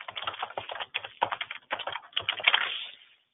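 Rapid keystrokes on a computer keyboard clear and retype a folder name, a close, steady run of clicky taps with brief pauses, ending in a quick flurry before stopping.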